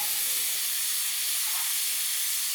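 Chopped onions frying in ghee for a Mangalorean chicken ghee roast, a steady even hiss of sizzling fat, close and unbroken, with no speech.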